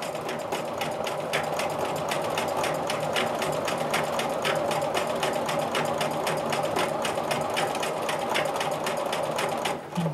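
A sewing machine stitching a soft S shape in lavender thread inside a quilted grid box, a steady fast mechanical chatter running continuously and close, stopping just before the end.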